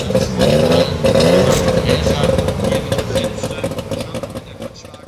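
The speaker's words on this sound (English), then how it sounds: "the three-cylinder two-stroke sounded like this." A three-cylinder two-stroke IFA F8 car engine runs loud and close, a busy raspy drone with buzzy revving that eases slightly toward the end, with no talk over it.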